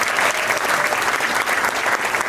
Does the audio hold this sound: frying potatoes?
no